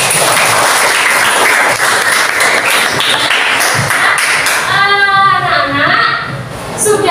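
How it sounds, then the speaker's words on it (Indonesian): Classroom students clapping together in a dense, lively burst of applause that fills most of the span, with a voice speaking over the tail end. "Tepuk tangan untuk kalian semua."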